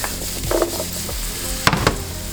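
Diced rutabaga sizzles in a pan, close and fairly loud, with a steady frying hiss broken by a few sharp scrapes and clatters of a utensil stirring.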